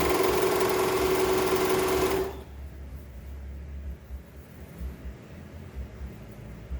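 Serger stitching an elastic waistband channel on children's clothing, a loud, fast, steady mechanical whir close by for about two seconds, then stopping abruptly into quiet room noise.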